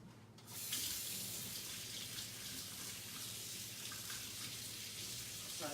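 A chalk stencil rinsed under a running tap, steady close rush of water hitting a sink that starts abruptly and holds level and fairly loud throughout.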